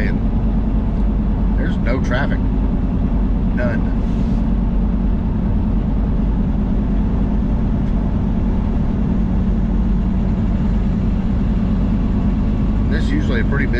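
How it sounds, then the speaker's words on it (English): Steady low engine and tire drone from a car driving up a quiet highway on a Sunday before Labor Day, continuous and even, with someone speaking intermittently over it. "Here I am driving up the highway on"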